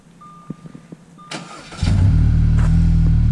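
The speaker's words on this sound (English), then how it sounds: "We're gonna give it a few seconds here and let her fire up." An Audi Q5 fires up by remote start: a few faint clicks and a relay whir, then the engine cranks and catches, settling into a loud, steady idle close by.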